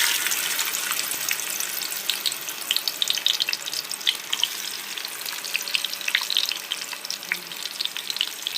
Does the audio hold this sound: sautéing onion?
yes